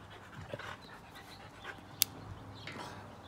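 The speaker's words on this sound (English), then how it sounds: "If you hear a couple dogs trying to play, trying to get me to play and stuff like that," Dogs playing in a backyard, with quiet breathy panting and faint scuffling that carry on steadily, plus a brief sharp click partway through.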